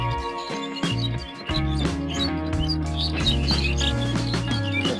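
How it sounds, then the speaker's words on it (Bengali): Birds chirp in the morning beside a paddy field, with quick, bright twitters repeating close at hand over a steady outdoor background. "পাখি যে সকালবেলা পাখিটা কিচিরমিচির দেখেন কি সুন্দর লাগছে"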